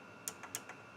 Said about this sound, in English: You can hear the relay click, and a solenoid, the solenoid click